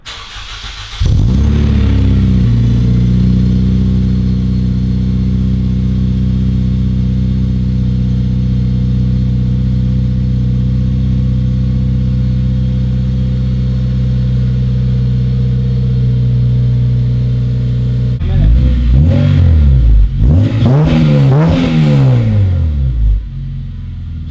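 Honda Integra Type R engine drones steadily at moderate revs through a long drive, loud and close inside the cabin, then rises and falls in a couple of revving pulls near the end.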